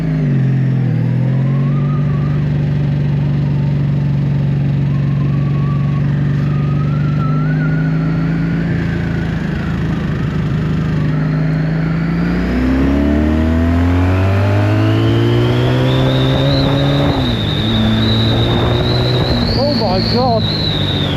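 A 1984 Honda V65 Magna VF1100C motorcycle engine runs steadily nearby, then revs up with rising, falling pitch sweeps and a whining tone, loud throughout with a voice talking over it.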